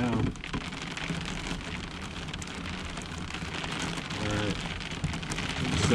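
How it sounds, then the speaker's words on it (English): Heavy rain from a severe thunderstorm pours steadily, a dense hiss of drops drumming on surfaces, loud and continuous throughout. "it's raining pretty good out there now"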